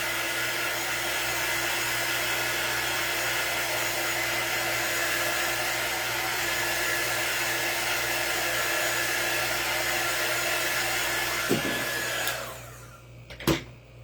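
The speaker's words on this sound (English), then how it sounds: "This is our quick dry tool. It does blow out hot air." Hot-air quick-dry craft tool blowing steadily for about twelve seconds with a broad, even whoosh, then switching off and falling away near the end; no talking.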